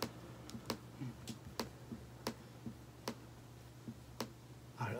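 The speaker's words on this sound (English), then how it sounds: "Sorry for the constant mouse clicks." Computer mouse clicking during Fortnite play, a run of sharp, separate clicks at an irregular, fairly steady pace over a low constant hum, close and moderately loud with no talking.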